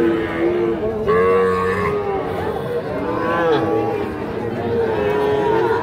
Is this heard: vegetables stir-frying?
no